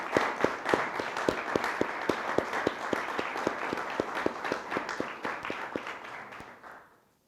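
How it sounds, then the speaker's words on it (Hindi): A church congregation claps together in a steady, rhythmic beat, loud and evenly spaced, under a wash of scattered hand claps that fades out near the end. "हम ज़ोरदार तालियां बजाएंगे।"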